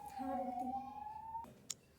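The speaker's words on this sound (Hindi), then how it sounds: "इतनी एम्बुलेंस किसकी आ रही है भाई बार बार" An ambulance siren outside a home study room sounds faintly in the distance as a sustained wavering tone, with a sharp click near the end.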